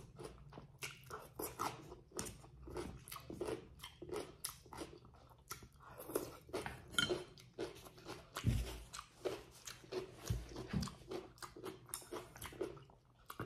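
Close, crisp crunching and biting of fried pork lumpiang shanghai, a steady run of sharp, dense bites and chews for the whole stretch with no talk.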